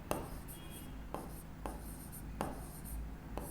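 Marker or chalk strokes scrape across a board during a Hindi-medium maths lecture on sets, a few separate rubbing strokes, each with a sharp start, over a quiet room.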